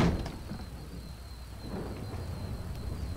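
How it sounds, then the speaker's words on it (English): Rain and thunder in GTA Online during a Cayo Perico heist: a constant wash of rainfall with a low, rolling rumble beneath it, steady and moderately loud across the whole stretch with no talk. "My hairdo is getting ruined from the rain."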